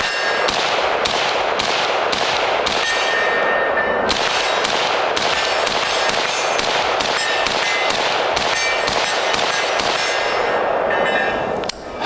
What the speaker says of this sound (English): I want to dump another mag off Sig Spear.